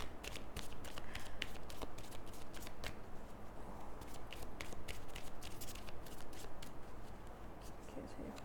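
Oracle cards from an energy oracle deck are riffled and shuffled by hand in a steady, continuous run of papery flicks and slaps, close and fairly loud, with low background rumble throughout.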